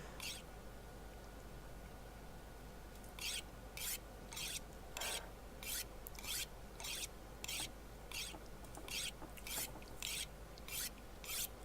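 Two knives being sharpened on a whetstone in The Long Dark, a steady series of about a dozen rhythmic rasping strokes, close and fairly loud, with no talk.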